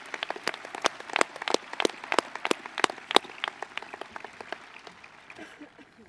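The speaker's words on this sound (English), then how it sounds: "Please join me in a round of applause for all of those people so vital to tonight" An audience at a high school commencement ceremony claps in a round of applause, starting as dense, fairly close clapping and gradually thinning out to scattered claps as it fades.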